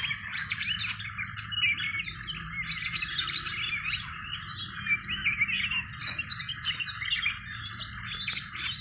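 Oriental magpie-robin (kacer) singing a continuous run of bright chirps, whistles and trills close by and fairly loud, over a steady low rumble of background noise, with no talking.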